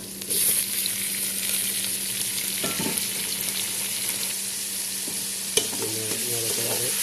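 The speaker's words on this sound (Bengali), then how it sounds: "নাড়াচাড়া করে দিলাম এগুলো একটু ফ্রাই করে করে ফেলবো" Puti fish (swamp barb) frying with tomatoes in a pan, a loud continuous sizzle with stirring scrapes and a sharp utensil knock near the end, close up with no speech.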